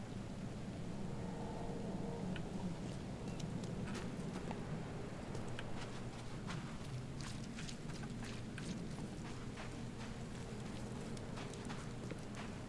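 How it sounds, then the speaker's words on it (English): Rain falls in the dreary town of the video game The Sinking City as a steady, unbroken hiss with scattered sharper patters throughout. No voices are present. "It's raining."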